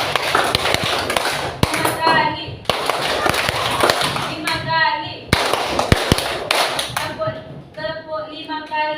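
Children in a classroom clap hands in counted bursts, sharp claps grouped in short runs separated by brief pauses, with a teacher's voice speaking between and over the rounds.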